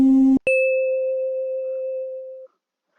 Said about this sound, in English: you have some bells.